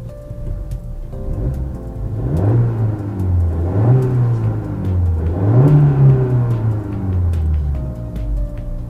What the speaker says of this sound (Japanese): ちょっと暑いんでエンジンかけさせてもらいます。